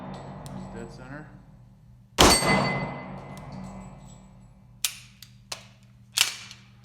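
Shots from a Taurus PT100AF or PT101AF pistol striking a steel target outdoors: one loud sharp crack with a ringing tail, then a few quieter sharp impacts, over a low steady hum.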